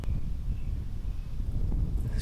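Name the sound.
wind blowing outdoors on a disc golf course by a pond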